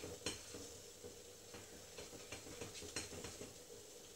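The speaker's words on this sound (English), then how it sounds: "add a teaspoon of the vanilla extract to the chocolate and give that a good stir" Melted chocolate with a teaspoon of vanilla extract is stirred in a bowl, giving faint, repeated soft scrapes and taps of a utensil in a steady rhythm.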